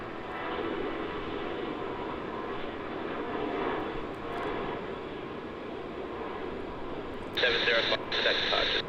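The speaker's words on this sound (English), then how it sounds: "And here taking off we have the Jetstar A320." A Jetstar Airbus A320 takes off at Melbourne Airport, its engine roar broad and steady at a moderate distance, while a person talks and radio chatter breaks in near the end.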